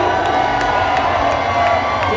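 Audience crowd at a roller derby bout, Firing Squad vs Denver Bruising Altitude, cheering loudly for a T-shirt toss, a dense continuous roar of shouts and whoops with scattered claps throughout.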